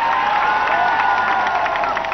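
Crowd at a Delhi political rally applauding and cheering loudly and steadily, a dense wash of clapping and shouts filling the whole stretch without pause.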